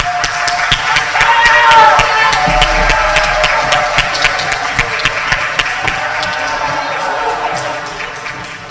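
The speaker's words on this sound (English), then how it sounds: "Please give them an applause." Graduation audience applauding the class of 2022 graduates at a ceremony, a dense, steady patter of many hands clapping across the whole stretch, with some crowd noise and voices mixed in.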